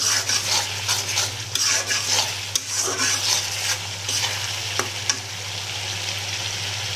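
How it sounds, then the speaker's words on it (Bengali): Spice paste sautéing in a pan for a prawn and taro-stolon curry, with a steady close sizzle, scraping stirs and a few sharp utensil clicks against the pan, with no voices. "পরে দিই মশলাটা ভালো করে কষা।"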